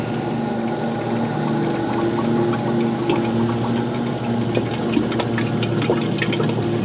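A Vevor oil drain pan pump transfers used engine oil drained from a pickup into a jug, giving a steady, close mechanical whir with a constant liquid gurgle that runs evenly throughout without any talk.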